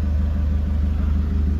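A repaired Nissan Patrol Y61 ZD30 diesel engine idles close by, a steady low throbbing rumble with an even, regular pulse and no other sounds.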